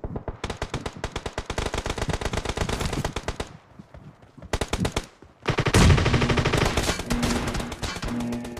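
Rapid machine gun fire rattles in long bursts with a short pause, loud and close, like video game gunfire.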